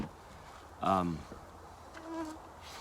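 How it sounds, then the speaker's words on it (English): Flying insects buzz around on a buggy Alaska morning, a brief loud close pass near the start followed by fainter intermittent whines. "bugs are awful this morning"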